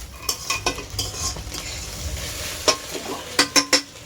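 Scrambled egg bhurji is stirred and fried in a pan: a soft sizzle runs under repeated sharp scrapes and clacks of a spatula against the metal, bunched toward the end.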